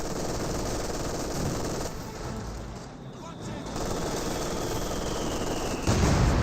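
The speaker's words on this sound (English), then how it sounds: "But it's there on the MG42." MG42 machine gun fire in the Company of Heroes 2 strategy game, dense sustained bursts and battle noise filling the mix, with a brief lull in the middle before firing resumes.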